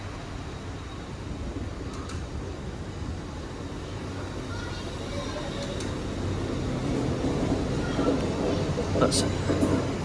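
Class 800 train, 800 306, pulling out of Cardiff Central for London Paddington, a steady low rumble that swells toward the end of the clip, with station sounds around it and a brief spoken word.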